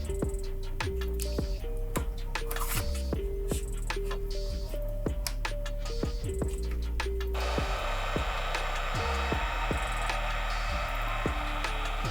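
A heat gun blows a steady broadband roar while shrinking heat-shrink tubing over a Ford Explorer EVAP hose, with a rhythmic ticking pattern running throughout and the hiss brightening partway through.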